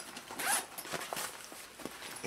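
A zipper is pulled open on a compartment of a travel sneaker bag, a close, scratchy run of quick ticking teeth lasting about two seconds, heard alone without talk.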